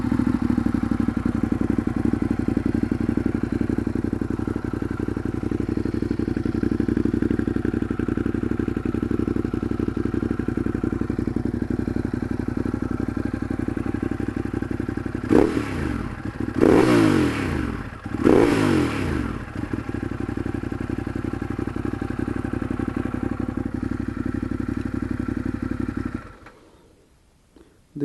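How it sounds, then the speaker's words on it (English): A 2015 Ducati Monster 821 with a race exhaust fitted with dB killers idles close by in a deep, steady burble, then gives two quick throttle blips before settling back to idle and shutting off. "This was the sound of the race line with DB killers inside."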